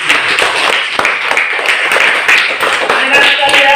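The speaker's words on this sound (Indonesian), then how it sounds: "Tepuk tangan dulu." Children clap together in a classroom during a lesson on three-dimensional drawing, sharp claps repeating at a steady, patterned pace close by, with talking mixed in throughout.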